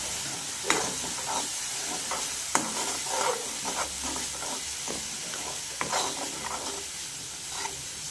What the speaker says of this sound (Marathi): आता थोडंसं फ्राय करून घ्यायचं.